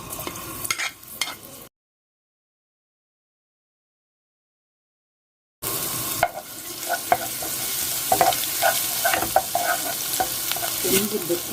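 Minced garlic sizzling and frying in oil in a pot for Egyptian koshari tomato sauce, with stirring; a short burst, a few seconds of silence, then a steady close crackle.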